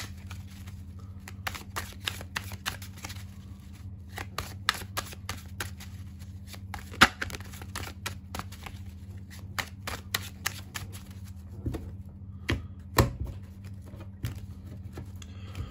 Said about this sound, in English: All right, deck is shuffled.